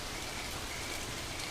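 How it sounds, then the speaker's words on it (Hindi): Heavy torrential rain pours down on the Serengeti in a dense, unbroken roar, loud and constant from start to finish. "इस तरह अचानक मूसलाधार बारिश होना अजीब है"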